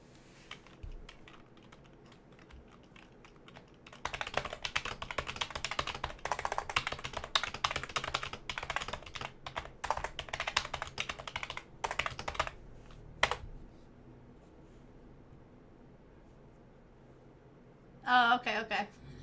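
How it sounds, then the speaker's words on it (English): Fast typing on a computer keyboard, a rapid dense clatter of keystrokes running for about eight seconds, then a few scattered taps before it stops; a voice is heard briefly near the end. "Speed typing. I mean, it could be considered keyboard ASMR."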